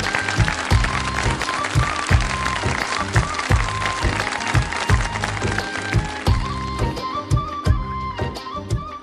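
Audience applause welcoming a guest at a Pakistan Independence Day stage show, a loud, dense clapping wash over strong rhythmic music with a heavy repeating beat throughout.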